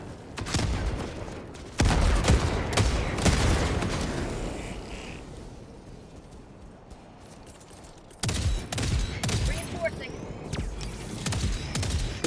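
An autocannon sentry firing in Helldivers 2, heavy booming shots in rapid bursts with explosions. A loud barrage early fades to a quieter lull, then the firing resumes sharply near the end.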